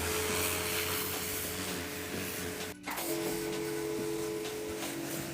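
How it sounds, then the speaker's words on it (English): A jet washer sprays down the walls of a dirty pool in a continuous, loud hissing blast, cutting out briefly for a moment midway before resuming. "and then jet wash it down."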